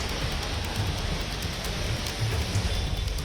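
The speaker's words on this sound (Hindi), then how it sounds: "दिल्ली में शुरू हुई मूसलाधार बारिश" Heavy monsoon downpour in Delhi, a steady dense hiss of rain pouring without a break, with a low rumbling wash underneath and no voices.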